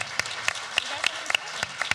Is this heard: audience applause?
yes